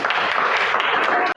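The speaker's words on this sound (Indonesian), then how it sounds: "Kasih tepuk tangan untuk" Applause and clapping from a classroom audience for a student presenter, a dense burst of many hands that fills the short clip at close range and stops abruptly at the end.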